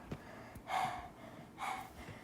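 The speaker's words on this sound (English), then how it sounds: "I'm breathing really hard right now" Heavy, labored breathing after running upstairs, with two loud drawn breaths and a few fainter gasps and snorts in between, close to the mic and with no talk.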